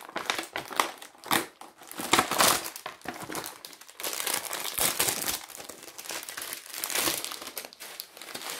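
Hanging window dehumidifier bags, sold in a pack of two, being opened from their plastic packaging, giving close, continuous crinkling and crackling of plastic in irregular bursts with no voice.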